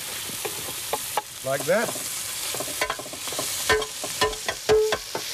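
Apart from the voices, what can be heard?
pork and onions frying in a pot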